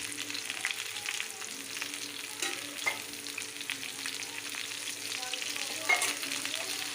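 Shavige palya (vermicelli) frying in oil in a pan while being stirred, a soft steady sizzle broken by faint scraping stirs, with no voices.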